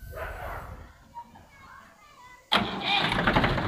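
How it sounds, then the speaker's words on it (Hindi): A 2001 Mahindra 265 DI tractor's diesel engine cranks and catches abruptly after a quiet stretch, then settles into a loud, steady, rattling idle close by. "ये मेरे भाइयों हो गया ट्रैक्टर स्टार्ट, काफ़ी अच्छी साउंड है"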